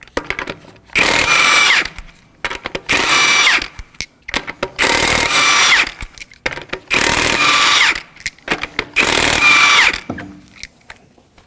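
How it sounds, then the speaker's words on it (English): An impact gun removes the lug nuts on a 2014-2020 Acura MDX 3.5L V6 with a 19mm socket, five loud close bursts of rattling hammering, each about a second long and separated by short pauses. "We're going to remove the lug nuts with a 19mm socket and your impact gun."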